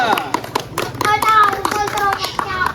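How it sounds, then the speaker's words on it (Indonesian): Schoolchildren in a physical education class on volleyball passing clap for a group, a short run of uneven, sharp hand claps mixed with children's voices close by. "Mau tepuk tangan dulu untuk kelompok 3."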